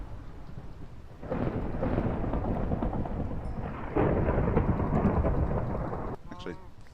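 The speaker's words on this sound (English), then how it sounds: "That thunder, though." Thunder rumbles heavily through a storm in the video game Minecraft, a long, loud, continuous roll that swells twice over steady rain, then fades.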